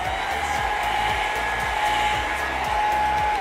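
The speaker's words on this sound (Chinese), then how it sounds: "然后打开吹风机的低温吹10秒钟" A hair dryer on its low heat setting, used to set a thin base of foundation on the face, blows steadily and close by with an even, continuous whoosh and motor hum for a few seconds, with no talking.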